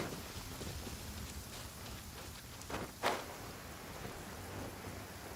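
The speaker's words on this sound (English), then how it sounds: "Don't stay out in the rain for too long." In the video game Genshin Impact, quiet rain hisses steadily while a single sharp thunder crack breaks through near the middle, with a smaller rumble just before it.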